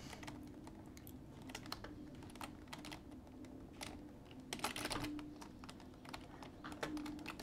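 Computer keyboard clicking while playing the Roblox fighting game ABA, rapid close-up key taps in an uneven rhythm with a dense cluster of louder hits midway, no talking.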